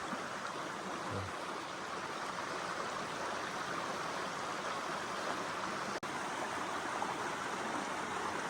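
A mountain valley stream flows right beside a house, its steady broadband rush of water continuous and fairly close throughout, with no voices.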